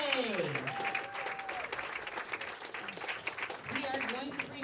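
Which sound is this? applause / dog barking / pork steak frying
applause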